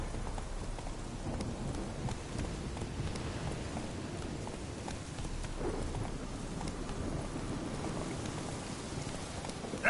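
Roach the horse gallops through steady rain in The Witcher 3: Wild Hunt, the hoofbeats dull and continuous under a constant wash of rainfall, with no voices heard.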